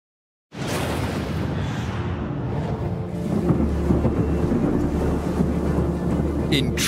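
Tropical thunderstorm at a skyscraper construction site in Kuala Lumpur, Malaysia: a loud, continuous roar of wind and rain buffeting the microphone, starting abruptly and swelling slightly, with no speech.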